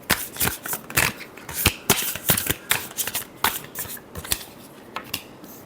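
Tarot cards being shuffled by hand, a close series of crisp riffling bursts and soft slaps repeating irregularly, fairly loud with no talking.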